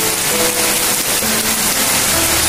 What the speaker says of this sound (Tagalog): Grabing ulan po oh.